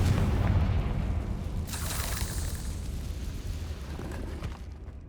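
The Confringo fire spell bursts in the Hogwarts Legacy video game as a heavy, booming explosion. The deep roar swells, a bright crackling burst follows partway through, and the rumble tails off slowly with no speech.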